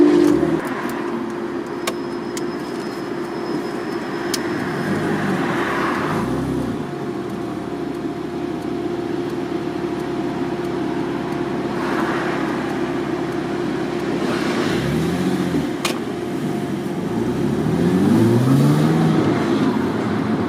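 A Porsche Boxster S 987 with a 3.2-litre naturally aspirated six-cylinder and manual gearbox, heard from inside while driving: a steady engine drone with cabin rumble, dipping and rising through gear changes, building toward the end.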